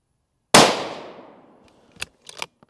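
An Accuracy International AT-X rifle chambered in 6BR fires a single loud, close shot that rings out and decays over about a second. A few quick mechanical clicks follow.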